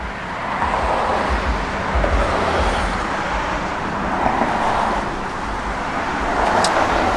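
A 1964 Chevrolet Malibu SS convertible on the road gives a steady, loud rush of engine and road noise with wind, a continuous drive-by hum with no distinct revs.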